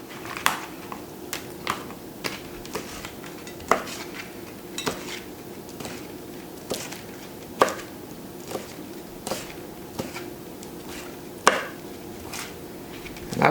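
A knife chops shrimp into bite-size pieces for ceviche on a cutting board, with steady, evenly spaced sharp taps against a low kitchen hum, close and without talk.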